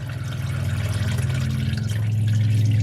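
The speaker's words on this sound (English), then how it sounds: "I've let all the fluid drain off the back of the pan here" Transmission fluid runs off the pan of a BMW X5's ZF 6HP six-speed automatic into a catch container, a close, continuous trickle and splash over a low steady hum.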